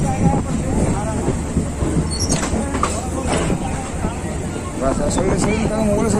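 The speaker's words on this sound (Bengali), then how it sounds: "আমরা এখন কুন্তিঘাট ঢুকছি।" A crowded Katwa–Howrah local train rolls into Kuntighat station, a dense rumble of wheels and carriage noise with squeaks and rattles, overlaid by constant chatter of passengers.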